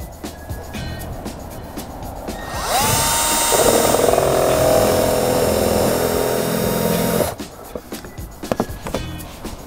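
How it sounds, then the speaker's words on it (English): Power drill with a spade bit boring a hole through an RV roof, a loud whining run of about four and a half seconds that bogs slightly as it bites, with quieter handling noises before and after. "there's nothing left to do but drill the hole."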